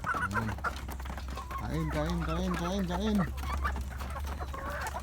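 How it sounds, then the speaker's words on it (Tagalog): Several chickens cluck and squawk on a backyard poultry farm, a rising run of close clucks over a steady low hum, with someone briefly talking. "Dami na tayo kasi klase ng manok dito"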